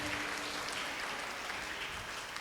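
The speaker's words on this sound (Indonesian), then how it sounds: "Tepuk tangan buat kalian masing-masing." Faint, distant clapping from a congregation for children at a church Christmas service, a soft wash of applause that holds steady throughout.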